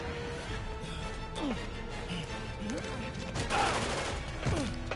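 Gunfire in Marvel's Spider-Man Remastered on PS5, a loose series of shots and impacts mixed into busy game sound, with someone talking over it.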